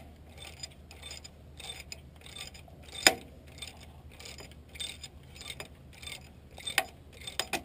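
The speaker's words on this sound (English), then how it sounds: "Put the ratchet back on there." Ratchet turning a bolt on the alternator of a 1999 Nissan Altima, a quiet rapid clicking of the pawl in repeated short bursts with a few sharper metallic knocks, close and without speech.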